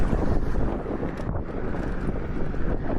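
Steady, close wind buffeting the microphone while riding an electric scooter on a road, a continuous broadband rush that fills the whole stretch without a break.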